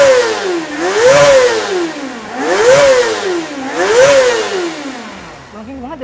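A Kawasaki Ninja motorcycle engine, a ZX-25RR or ZX-4RR, is revved hard toward a 10,000 RPM redline three times in a row, each rev a loud, close, high-pitched rising scream that falls back before the next, the last one fading away.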